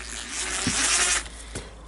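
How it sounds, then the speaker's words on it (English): Screws being turned into the housing of a Makita DGA452 angle grinder during repair, a close, rasping mechanical scrape with a couple of brief clicks, heard alone without talking. "Now we need to put the screws here."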